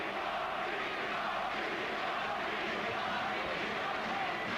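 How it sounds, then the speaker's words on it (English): A packed boxing crowd roars for the hometown fighter at the Chris Eubank vs Graciano Rocchigiani bout, a dense, steady wall of cheering and shouting that holds at the same level throughout. "Rarely hear support like this for a hometown fighter"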